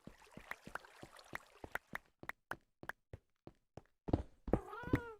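A house cat meows several times near the end, loud and close, after a run of evenly spaced sharp knocks or thuds in a quiet room.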